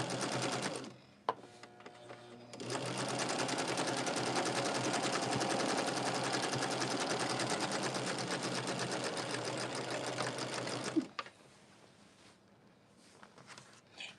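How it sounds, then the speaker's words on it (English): A sewing machine chain-pieces quilt blocks with sashing, running in a fast, even, close clatter for about eight seconds, preceded by a brief burst of stitching and followed by quieter handling. "I'm just chain piecing at this point all of the blocks, and I'm adding the sashing to what should be like the right side of the block"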